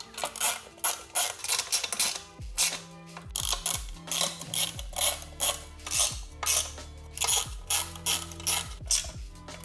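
Ratchet wrench clicking in repeated bursts while tightening the three stator cover bolts on a Suzuki DRZ400 motorcycle, sharp close ratcheting strokes separated by short pauses.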